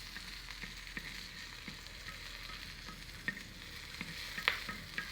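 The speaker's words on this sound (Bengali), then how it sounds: "আমি এখন রসুন আর কাঁচামরিচ ভাজা নিমু, কড়াই গরম হয়ে গেছে গা, তারপরে অল্প দিয়ে দিমু তেল" Garlic and green chilies fry in a little oil in a hot wok, a soft steady sizzle with occasional crackles and light stirring clicks, quiet and close, with no one talking.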